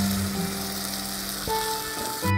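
Ground tomato hits onions frying in hot oil, giving a steady close sizzle with a brief louder burst of spatter as it goes into the pan.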